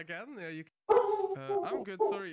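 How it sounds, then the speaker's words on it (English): A pet dog barks and yips in a home during a game-stream chat, short, sharp bursts mixed in with a person talking close to the microphone. "Apologies for my dog barking."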